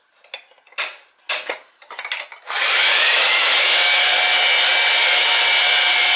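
A threading die cuts threads onto pipe during boiler and oil tank replacement. A few scraping, clattering metal strokes give way to a continuous loud grinding hiss as the cut proceeds.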